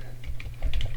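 Keys clatter on a computer keyboard, a quick irregular burst of close, loud keystrokes with a microphone placed right in front of the keys.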